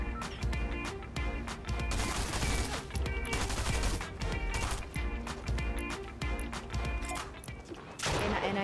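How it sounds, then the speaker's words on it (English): Gunfire in a video game from a new shotgun, with loud repeated blasts and bursts stacked densely across the whole stretch, sharp reports over a busy game soundscape. "I killed her with the new shotgun"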